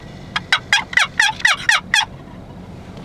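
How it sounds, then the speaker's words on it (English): Wild turkey hens call in a rapid run of about eight loud, raspy yelps close by, followed by quiet with no voices. "Listen to those hens."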